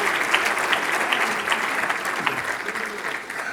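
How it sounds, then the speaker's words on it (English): Warm, dense applause from an audience at a business event on the federal budget, a steady wash of many hands clapping at moderate loudness, sustained throughout and gently fading at the end. "Let's give him a warm round of applause."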